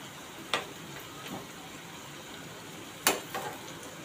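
Leftover chapati kebabs frying in oil in a pan, a soft steady sizzle with a few sharp clicks and pops of turning or handling, close and quiet.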